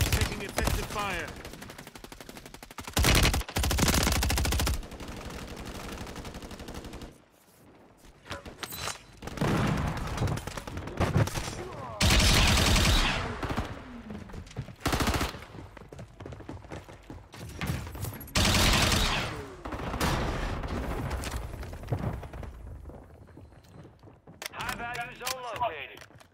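MTZ 556 rifle fire in a Call of Duty match, repeated loud bursts of automatic shots separated by short pauses across the stretch, with radio voice lines over the action.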